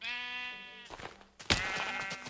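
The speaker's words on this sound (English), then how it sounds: "Is that a sheep? I heard you." A Minecraft sheep gives one clear, close bleat, followed by a few soft thuds and a brighter scuffing hit, with no voices.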